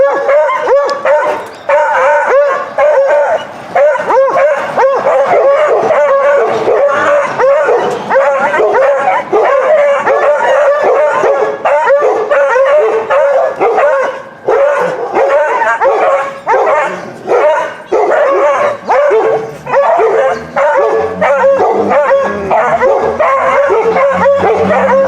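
Several dogs bark loudly and repeatedly at close range, a dense run of sharp woofs and yips with a few whimpers, continuing with only brief gaps.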